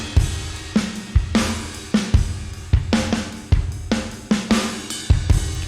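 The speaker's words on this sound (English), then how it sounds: "Right now I've got Sparkverb set up on a drum bus" Drum kit passed through a UVI Sparkverb reverb on a drum bus, with steady kick and snare hits in a regular groove, each trailed by a subtle room-like tail, loud and alone without any talk.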